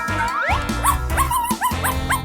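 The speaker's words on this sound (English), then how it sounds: "Yes, it's a dog." Dog barking and yipping in a quick series of sharp, high, whining barks, close and loud, with no talking.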